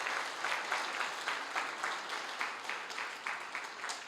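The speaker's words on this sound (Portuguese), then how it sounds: "Dê mais uma salva de palmas ao Senhor" A church congregation claps for the Lord after a sermon on finances, steady crowd applause with a soft, slightly distant sound that stays even from start to end.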